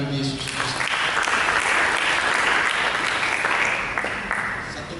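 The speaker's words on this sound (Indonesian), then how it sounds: "Dengan tepuk tangan bagi Yesus." A church congregation applauding loudly, dense sustained clapping from a large crowd that swells and then begins to fade toward the end.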